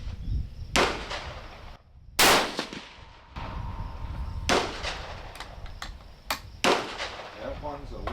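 Rifle shots from a 28 grain-class Varget load fired during a barrel tuner test, several sharp loud cracks spaced a second or two apart, with faint talk and outdoor background between shots.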